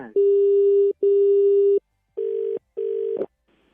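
A steady electronic telephone busy tone beeps in four long pulses with short gaps after a call is cut off, loud and clear with no talking.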